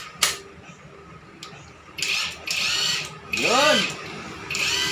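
An inexpensive cordless impact wrench gives several short bursts of whirring and hammering rattle between pauses, close by, with a sharp click early on and a brief word spoken.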